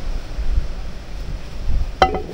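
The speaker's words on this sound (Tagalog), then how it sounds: "Ang lakas din kasi ng hangin." Steady gusting wind roars across the microphone, low and blustery throughout, with a brief sharper clatter near the end.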